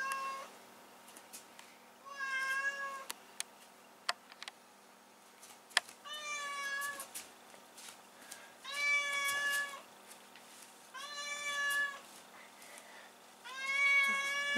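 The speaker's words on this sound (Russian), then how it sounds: "Кот пытается Макса сдвинуть." A cat meowing repeatedly indoors at home, a series of drawn-out, plaintive calls in uneven bursts with short pauses between, fairly clear and close, with a few faint knocks in the background.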